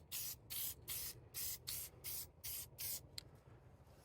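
An aerosol can sprays paint onto a Ford 641 tractor manifold in about nine short, evenly spaced hissing bursts. The sound is quiet and close, with brief pauses between passes.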